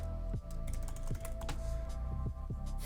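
Rapid clattering keystrokes on a computer keyboard as web page link text is typed, steady and close with a few heavier thumps, no voice.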